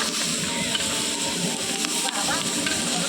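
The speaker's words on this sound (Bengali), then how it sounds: "চিংড়ি মাছটা আগে ভাজা হবে" Prawns fry in hot oil in a kadai before going into a malai curry, with a loud, dense, continuous sizzle and crackle heard up close for the whole stretch.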